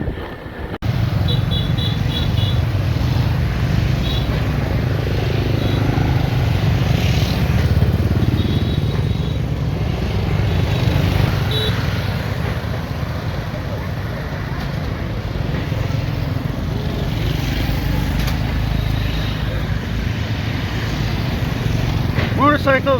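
Motorcycle and bicycle traffic fills a Hanoi street, with a dense, constant drone of small engines passing close by and voices talking over it throughout.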